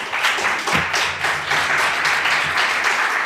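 A summit audience claps steadily, a full and fairly close applause that holds at an even level throughout, with a brief low thump early on.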